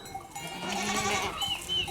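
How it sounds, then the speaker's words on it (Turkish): Large Honamlı goats on a farm in Geyikbayırı village, Antalya, bleating and calling over one another, close and loud, with a clinking cowbell-like rattle mixed through the steady herd noise. "Bunların keçileri orijinal."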